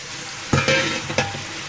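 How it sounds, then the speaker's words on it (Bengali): Pieces of potato and pointed gourd drop into hot oil and are stirred, starting a loud sizzle that jumps up in two bursts as the vegetables hit the pan and are turned. "তেল উঠে গিয়েছে। এই পর্যায়ে আমি সবজিগুলোকে ঢেলে দিব।"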